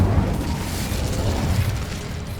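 A fire spell called Incendio is cast in the video game Hogwarts Legacy, giving a steady, loud rumbling burst of flame that roars on for a couple of seconds, with deep low noise and no talking.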